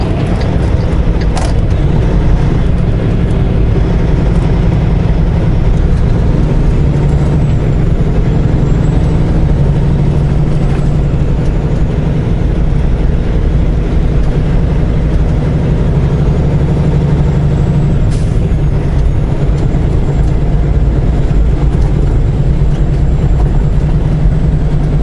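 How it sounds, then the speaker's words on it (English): A semi truck pulls a trailer through a blizzard near Fort Wayne, its engine a loud, continuous, close rumble with wind and road noise, and snow blowing off the trailer roof. "I am blowing so much snow off the roof of my trailer right now."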